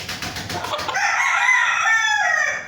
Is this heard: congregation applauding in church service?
no